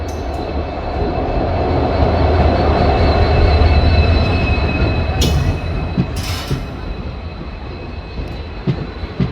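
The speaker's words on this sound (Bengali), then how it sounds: "ট্রেনটা এসে পৌঁছালো।" A Siliguri InterCity train hauled by a diesel EMD locomotive with blue ICF coaches rolls into a single-line station in the Dooars, a loud steady rumble of wheels with brief squeals and metallic clacks, no voices.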